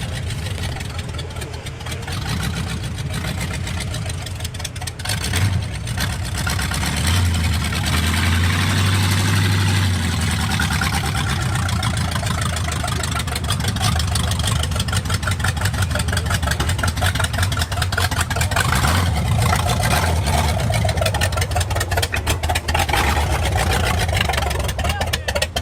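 A limousine's 500 big block V8 idles roughly and unevenly, a steady low rumble that sags and surges throughout, heard up close with people talking over it.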